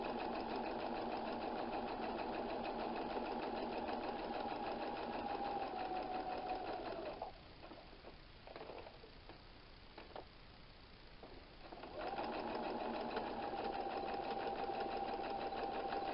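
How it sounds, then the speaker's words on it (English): Sewing machine stitching a 1940s-style apron, running in a steady continuous whir, pausing briefly midway as the fabric is turned, then resuming at close range. "I'm using a section of my foot to give me an idea of where to put the fabric as I'm turning it and sewing."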